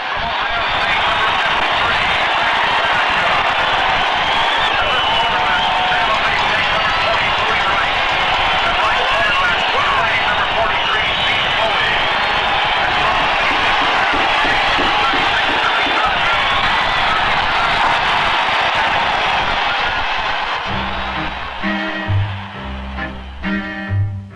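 Capacity stadium crowd at a Denver Broncos home game, a broad, sustained roar of cheering that stays loud for most of the stretch, then breaks up near the end as other sounds come in.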